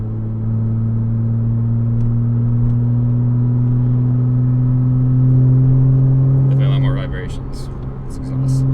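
A Porsche Cayman S (987) with an aftermarket exhaust and a slight exhaust leak drones steadily at low pitch while driving, with a brief rattling, hissy burst near the end as the engine note shifts.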